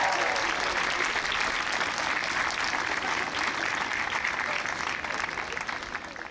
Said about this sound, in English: join me in giving her another round of applause and congratulating her for her time here.